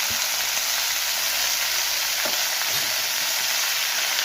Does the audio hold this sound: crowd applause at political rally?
no